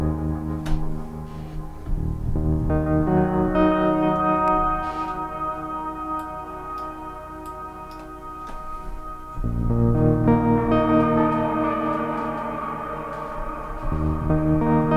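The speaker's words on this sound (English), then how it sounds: "Reverb's really great, and the tape echo, it's on, but it's turned right down." A synthesizer modelled on the Roland Jupiter 4 plays sustained chords through reverb with tape echo turned right down, notes swelling and changing every few seconds, loud and alone.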